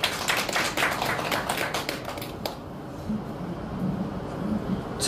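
A lecture audience applauds at the close of a forum talk, with dense clapping that runs steadily for about two and a half seconds before thinning out into scattered claps over a low room murmur.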